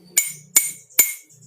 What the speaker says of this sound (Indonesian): gelas yang tidak berisi air akan mempunyai gelombang bunyi